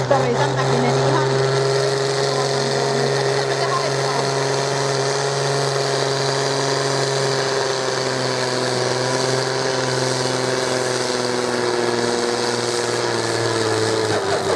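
An old tractor engine runs steadily at close range, a constant droning hum with firm low harmonics that holds without a break throughout.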